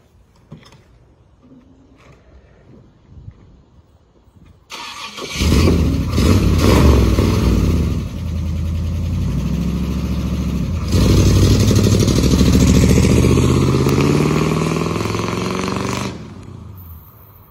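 Red hot rod car with automatic transmission and 120,000 original miles cranks and fires up after a quiet moment, then idles and revs with a loud, rumbling engine for about ten seconds before shutting off.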